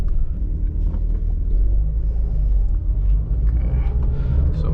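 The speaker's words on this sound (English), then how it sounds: "let's go for a little drive" Low, steady engine rumble and road noise fill the cabin of a car fitted with an aftermarket shifter box, heard from inside while driving, with no talk.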